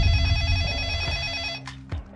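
A cell phone rings in a kidnapping investigation scene, a bright electronic ring with several steady tones lasting about a second and a half, then cut off by a faint click and silence.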